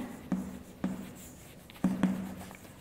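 Chalk taps and scrapes on a classroom board as a teacher writes out an English grammar question, four distinct close knocks with short strokes in between.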